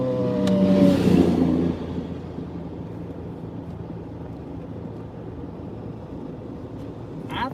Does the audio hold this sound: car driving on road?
yes